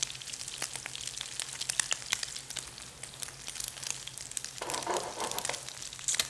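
Crab cakes sizzle and crackle steadily in a hot pan, a dense close frying hiss with scattered pops and no talking.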